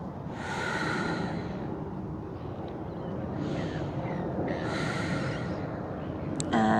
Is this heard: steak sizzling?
no